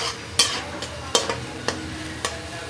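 Finely chopped onion fries in oil in a kadai, a constant sizzle broken by about five sharp scraping strokes of a spoon against the metal.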